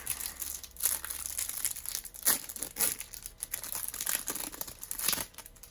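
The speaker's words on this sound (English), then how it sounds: "We're going to try to peel this off without wrecking the paper." Paper wrapping is peeled and torn off a card box, giving continuous close crinkling and crackling with sharper tearing bursts and no talking.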